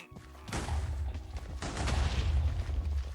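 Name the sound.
explosions in a video game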